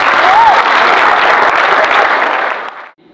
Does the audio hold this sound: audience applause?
yes